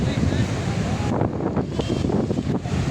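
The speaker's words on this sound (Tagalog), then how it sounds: "Grabe palang alon naman dito." Strong surf at San Fabian Beach in Pangasinan, a continuous low roar of breaking waves mixed with heavy wind buffeting the microphone, close and loud throughout, with a voice faintly present.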